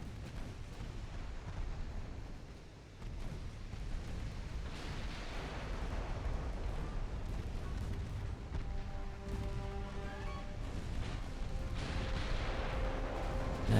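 Naval gunfire from a battleship engagement in the video game Ultimate Admiral Dreadnoughts, a continuous barrage of heavy booming artillery and explosions that rolls on steadily at high volume, with no talking.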